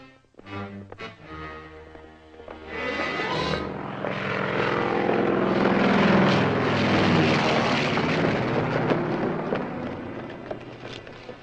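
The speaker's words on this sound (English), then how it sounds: "There's your plane. Yes, it's going to land at Chevelle Flats." A propeller airplane flying in to land, starting with a sputtering engine and rising into a loud, sustained roaring drone that swells as it passes close, then slowly fades; no talking.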